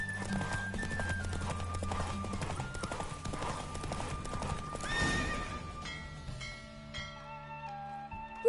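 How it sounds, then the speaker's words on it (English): Hooves clip-clop in a quick galloping rhythm over music in The Witcher 3 (PS5 version), with a horse whinnying partway through. "Don't spare the horse!"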